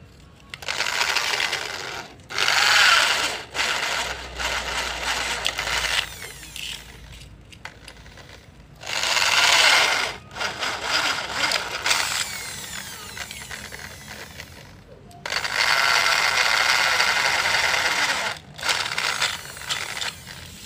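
A power drill whirs in several bursts, bites into wood for an egg incubator roller rack, and pauses briefly between each run, close and fairly loud.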